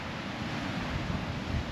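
Heavy surf pounds a beach on the far western end of Molokai, a steady broadband roar of intense breaking waves with strong undertow, wind buffeting the microphone throughout.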